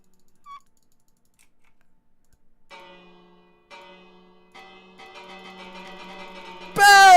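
In Minecraft, scattered soft chiming tones build into a layered ringing of bells, ending with a loud bright swelling chime.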